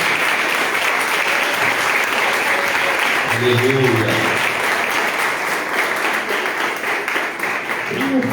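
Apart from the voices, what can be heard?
church congregation applauding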